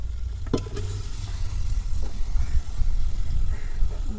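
Chicken pieces fry in a pan of spiced masala with dried red chillies and chilli powder, giving a steady low sizzle and soft stirring scrapes that run on without a break, with no voices.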